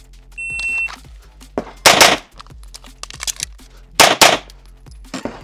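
A high electronic timer beep, then two loud, sharp pistol shots from a Beretta LTT or H&K P30L about two seconds apart, with lighter clanks and thuds in between on a shooting range.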